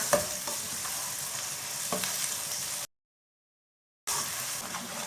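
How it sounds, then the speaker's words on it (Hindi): Three finely chopped onions sizzling as they brown in a pan for chicken biryani, a steady close frying hiss with spoon scrapes from stirring, briefly cut to total silence before the sizzle resumes. "प्याजों को हल्का सा ब्राउन कर लेना।"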